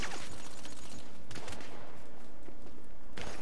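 Rapid bursts of video game gunfire in GTA 5 Online crack and rattle in quick succession, with scattered single shots and brief pauses between volleys.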